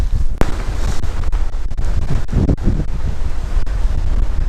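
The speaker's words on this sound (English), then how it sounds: "It's a bit windy." Strong wind on Dartmoor buffets the microphone with a constant low rumble and roar, steady throughout with occasional gusty thumps, during a run.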